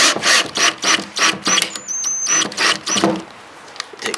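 Screws being driven into damaged drywall during a small-hole repair, a series of rapid mechanical ratcheting bursts in quick succession, loud and close, with short pauses and a brief high whine near the middle.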